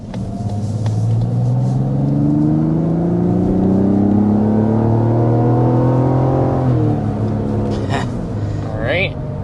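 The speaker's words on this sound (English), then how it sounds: "we're up to 60 miles per hour, and then back down to 0" A Toyota Grand Highlander SUV engine revs up hard from a standstill to 60 mph, its tone climbing steadily and loudly before easing off as it slows, with a brief voice near the end.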